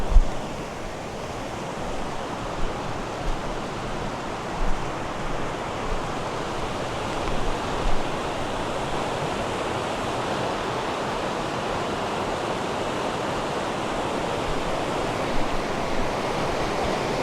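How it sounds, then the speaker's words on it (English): A river near an abandoned gold mine rushes steadily in the rain, a constant broadband roar of flowing water heard close and alone without any voices. "We'll have a little look out at the river here."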